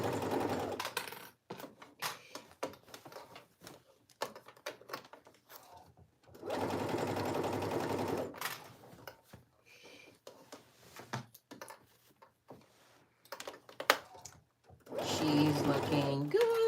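A sewing machine motor stitching slowly through bulky jacket fabric in bursts of steady whirring, loud and close, separated by pauses where someone talks.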